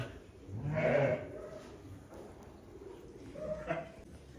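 A ewe with her four newborn lambs, giving two clear bleats a few seconds apart, the first louder and longer, against a quiet background.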